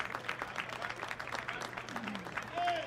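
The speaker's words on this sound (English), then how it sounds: "clapping for their teammate" Crowd applause at a college football game, Saddleback Bobcats vs PCC Lancers, as an injured player is helped off the field; steady, fairly distant clapping runs throughout, with a whistle-like tone near the end.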